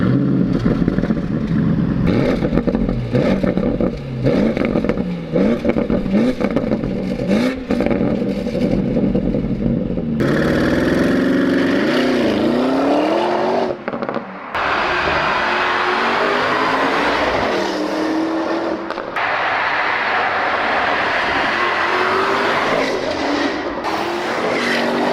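A Porsche sports car engine revs hard in several loud surges and drops, the revs climbing and falling over a rough mechanical roar with no talk.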